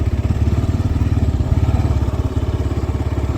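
A Kawasaki KLR 650 single-cylinder motorcycle rides steadily on a rural back road, its engine thumping in a fast, even pulse up close with no talk over it.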